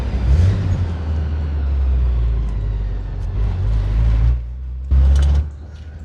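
A 1983 Porsche 944 is driven on the road, its engine a deep, steady rumble from inside the car with a brief surge near the end, and no talk over it.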